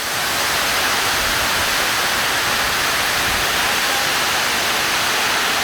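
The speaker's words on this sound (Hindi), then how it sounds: "और बारिश अपने अरूज पे है इस वक्त।" Heavy rain pours across a farm in Rahim Yar Khan while runoff water flows. The roar is loud, dense and steady, an unbroken hiss with no voices.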